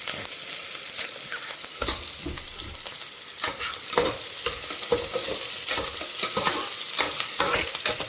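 Ingredients for mutton biryani sizzling in a pan at a moderate level, with irregular stirring scrapes and clatters over a continuous frying hiss.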